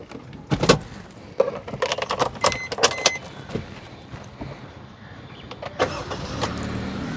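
Keys jangle near a car as the ignition is turned, with clicks and rattles and a brief starter sound, followed by a quieter settling hum.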